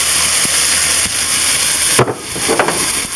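Onions sauteing in melted butter in a pan for a stew, a steady close hiss with a few clattering stirs and scrapes partway through.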